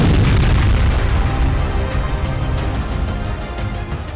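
A large explosion in Russia captured from far away, a loud, sustained low roar and rumble that fills the whole clip and slowly eases off.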